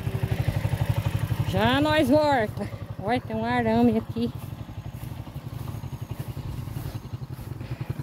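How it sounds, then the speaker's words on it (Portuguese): A motorcycle rides along a rough track through the bush, its engine putting out a steady close-up pulsing thrum, with someone speaking briefly over it. "agora eu vou de moto"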